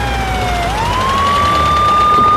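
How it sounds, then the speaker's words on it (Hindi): Ambulance siren on a road, loud and close, one sustained wailing tone that dips and then rises steadily, with constant traffic noise beneath it and no voices. "अरे ऑटो भाई साइड हो जाओ, एम्बुलेंस आ गई है।"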